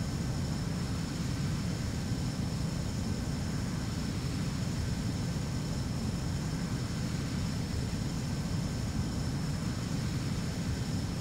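Steady, loud fighter jet engine roar during a landing approach in the Ace Combat 04 video game, a constant broadband rush with a faint high whine, unchanging across the whole stretch and with no talking.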